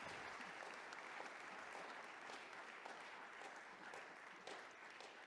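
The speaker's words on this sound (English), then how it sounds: "you have to keep clapping until he finishes taking photo" An audience at a 2019 virtual reality career award presentation claps continuously, a faint, distant wash of applause with a few sharper individual claps.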